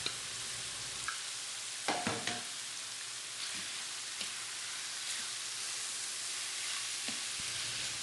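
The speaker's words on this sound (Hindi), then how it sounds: "चिकन को ऐड करके अच्छी तरह से मिक्स कर लेंगे।" 500 grams of boiled chicken is stirred into a sizzling pan for spring roll filling, giving a steady frying hiss with a few scraping knocks of the spoon near the start and middle.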